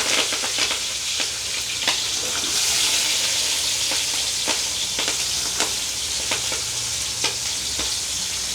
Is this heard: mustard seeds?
yes